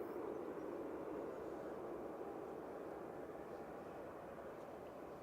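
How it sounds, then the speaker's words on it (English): A Ryanair Boeing 737-800 touching down at Manchester Airport, a steady broad jet roar heard from a distance, constant and slowly easing without distinct peaks. "Just touching down now is Ryanair from Corfu with flight 2099"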